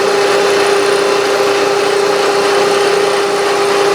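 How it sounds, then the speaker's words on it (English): Bridgeport milling machine climb milling metal, a loud steady machining whine with a strong constant tone over broadband noise, continuous and unbroken with no speech. "Now as I feed back in toward the center, I am climb milling"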